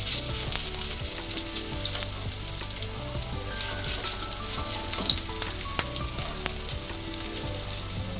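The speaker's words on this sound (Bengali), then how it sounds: "তেল গরম হয়ে গেছে আর গ্যাসের ফ্লেম একদম লো আছে, আর একদম লো আছেতে আমি এটাকে ভাজবো।" Kebab patties fry in hot oil over a low gas flame, a steady close crackling sizzle with scattered pops and spits throughout and no talking.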